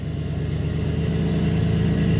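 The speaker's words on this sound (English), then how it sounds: "We're going to let it idle up a little bit, see what the new AFRs are from just idling." A Mercedes SLK32 AMG engine idles steadily after a fuel and spark tune-up, a close, loud, even low rumble with a faint rise in pitch toward the end and no talking.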